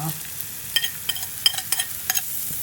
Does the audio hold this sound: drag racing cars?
no